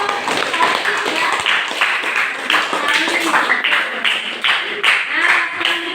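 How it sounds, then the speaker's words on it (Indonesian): Classmates applaud in a classroom during a religious studies lesson, a dense patter of many hands clapping steadily for several seconds, close and fairly loud, with children's voices mixed in. "tepuk tangan untuk Sofi ya."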